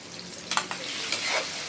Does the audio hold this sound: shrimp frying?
yes